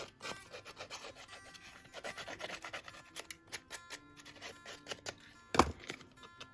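Small leftover bits of a die-cut paper rose piece scraped away by hand, heard as a run of soft, quick rubbing and scratching strokes close up, ending in one sharper knock.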